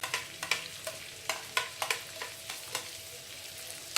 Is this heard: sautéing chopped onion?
yes